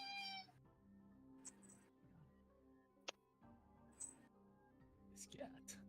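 A cat meows a few times, fairly close, between stretches of quiet indoor background with a sharp click partway through.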